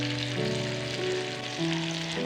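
Marinated tandoori chicken sears over high heat in a hot pan, giving a loud, steady sizzle close up with a low, shifting hum underneath.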